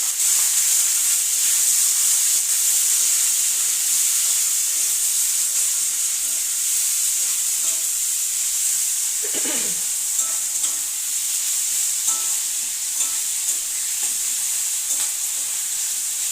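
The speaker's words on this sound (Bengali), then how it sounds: "পেঁয়াজ পেঁয়াজ টমেটো একসঙ্গে ভাজা হবে" Onion and tomato fry together in a pan with a continuous bright hiss and sizzle. A brief clatter of stirring comes midway, and no one speaks.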